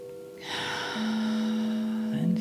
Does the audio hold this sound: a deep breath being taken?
yes